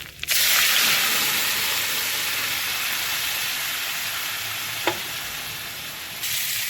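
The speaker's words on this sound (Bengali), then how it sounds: "জিরে তেজপাতা লঙ্কা ফোড়ন দিয়ে ডাল ডালটাকে ছুটে দেবো" Cumin, bay leaf and dried chili tempering sizzles steadily in hot oil for moong dal, a loud close broadband hiss with a brief sharper crackle partway through.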